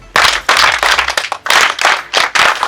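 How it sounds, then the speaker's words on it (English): An audience at a graduation ceremony bursts into applause, with dense, loud clapping that rises and falls in several waves over a few seconds. No one speaks over it. "a clap for him"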